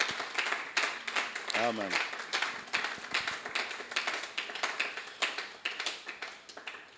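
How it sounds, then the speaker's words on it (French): Applause from a church congregation during a prayer service fills the room with a steady, dense patter of clapping that runs throughout, and a single voice briefly speaks over it. "Je pense qu'on peut encore applaudir pour ça."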